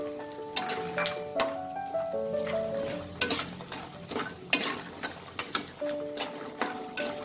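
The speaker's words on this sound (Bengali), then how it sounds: "একটা কড়াইতে আমি কিছুটা সর্ষের তেল গরম করে নিয়েছি। এবার আমি ডালের বড়ি কটা ভেজে নেব।" Dried lentil nuggets frying in hot mustard oil in a wok, a continuous close sizzle broken by frequent light taps and scrapes of a spatula, with a faint tonal ringing running underneath and no voices.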